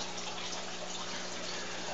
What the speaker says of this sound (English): Here the U-bend siphons started up on this one here.